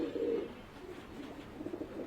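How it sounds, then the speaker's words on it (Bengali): Pigeons in a crowded loft in Mirpur, Dhaka, give soft low cooing calls, faint and continuous against a quiet background. "এই যে দেখতেই পাচ্ছেন মাশাআল্লাহ অনেক অনেক কবুতর।"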